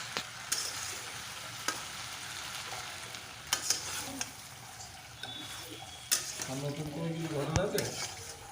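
Malabar spinach and shrimp stir-fried in a pan over high flame for a Bengali chorchori, with a steady sizzle, scraping stirs and clinks of the spatula, and a voice talking briefly near the end.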